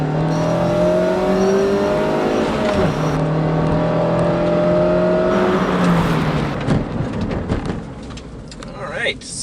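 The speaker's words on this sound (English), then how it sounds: "0 to 60 run on the MX-5." A 2016 Mazda MX-5's engine revs up through rising harmonic tones during a 0 to 60 mph run, dropping briefly at a gear change before climbing again, with some road and wind noise.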